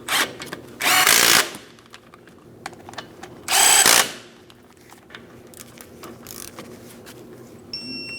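An impact or power tool on a 2015-2025 Ford Transit 250 front brake job runs in two loud bursts of about half a second each as bolts are snugged, close up, with clinks and workshop noise between.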